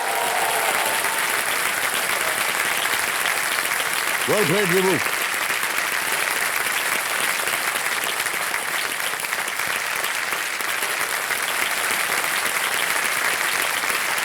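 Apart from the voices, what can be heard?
studio audience applause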